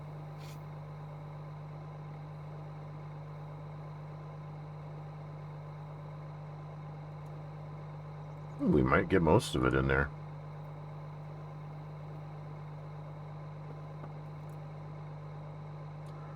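A steady low engine idle from a tractor in Farming Simulator 22 hums evenly throughout, with someone talking briefly over it partway through.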